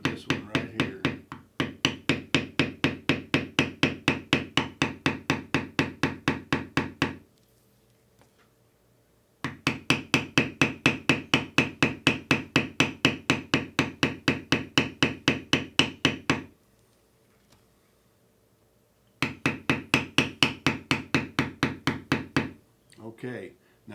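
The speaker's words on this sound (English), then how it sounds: "now just listen to my beveler, to my maul" A steel leather beveler struck repeatedly with a maul while bevelling carved lines in leather: three runs of rapid, evenly spaced sharp knocks, close and loud, separated by short pauses.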